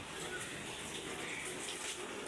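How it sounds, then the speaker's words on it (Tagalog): Water runs into an assembled 3 ft by 6 by 10 above-ground pool, giving a continuous, even gushing rush with no clear breaks and no talk. "Nilalagyan na ng tubig."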